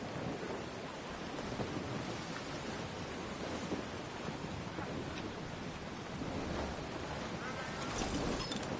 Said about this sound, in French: Foutue tempête.